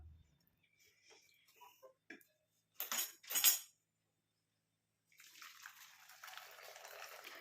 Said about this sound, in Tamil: இந்த டிகாஷனை வடிகட்டி எடுத்து வச்சுக்கலாம்